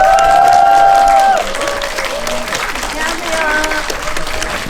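A crowd at a Korean film special screening claps and cheers for the arriving cast and director, loud at first under a sustained voice, then settling into steadier applause with more talk over it.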